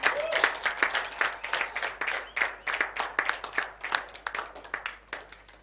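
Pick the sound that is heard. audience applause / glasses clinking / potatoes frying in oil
audience applause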